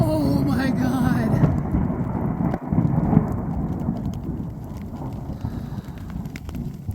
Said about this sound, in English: Definitely hearing louder thunder.